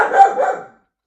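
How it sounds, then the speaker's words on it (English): A dog barks protectively inside a house, a quick run of several close, loud barks over under a second, then silence. "Sorry for those who can hear my dog."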